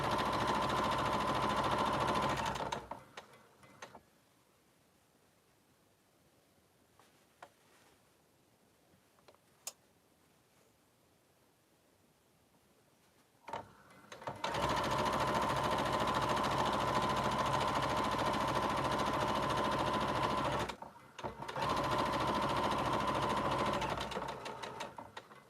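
A sewing machine stitches the seam of a sling bag in two loud, steady runs of rapid mechanical whirring, separated by a long quiet pause with a few small clicks of handling.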